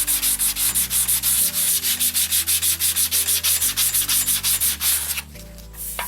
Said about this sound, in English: I'm just blocking it with a paint stirrer. I got some sandpaper wrapped around it.